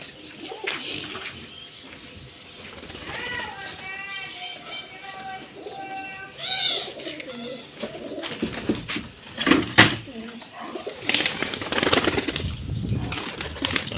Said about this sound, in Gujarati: બધા કબૂતર બહાર નીકળી ગયા છે.